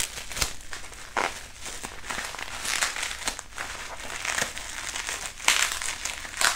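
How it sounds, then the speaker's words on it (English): Tape is ripped off the box of a CZ P-09 Optic Ready pistol in a series of close, crinkly tearing and crackling bursts, with no talking. "this thing's taped up good. I'm gonna rip it"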